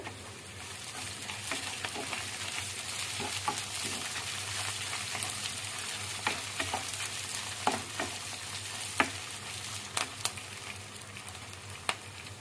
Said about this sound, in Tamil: கருவேப்பிலை சேர்த்துக்கிறேன் தேவையான அளவு.